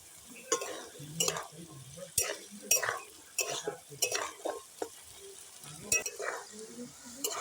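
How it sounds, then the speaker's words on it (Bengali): Cashews and raisins go into hot oil in a pan while cooking a Bengali veg dal, heard as an uneven run of spoon scrapes and metal clinks over a light sizzle, with a voice talking at times. "এবার দিয়ে দিচ্ছি কাজু কিশমিশ।"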